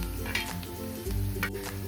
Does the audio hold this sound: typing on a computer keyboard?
no